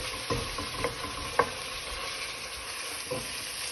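Turkey keema sizzles with fried masala in a pan, a soft steady frying hiss punctuated by a few light stirring clinks, moderately quiet and close.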